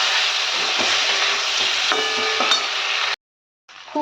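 Boiled potatoes coated in turmeric are stirred and fried in a pan, giving a steady, loud sizzle with faint scraping. The sound cuts out briefly near the end, then the frying returns.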